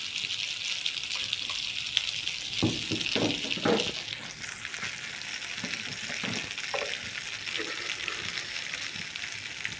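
Ground cumin, coriander and a little sugar frying in a pan for a matar paneer dish, a continuous sizzle broken by several scraping stirs in the middle, close and without talk.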